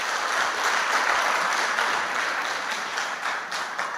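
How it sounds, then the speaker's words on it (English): An audience claps for itself at a gathering of students from high school to postgraduate level, a dense, even round of applause that holds steady from start to finish. "Can you clap your hands for yourselves?"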